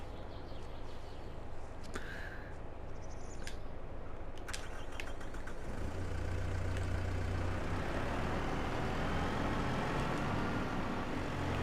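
An Antonio Carraro tractor idles in Farming Simulator 22, a low continuous engine drone that holds steady and grows slightly fuller in the second half, with a few faint clicks and bird chirps early on.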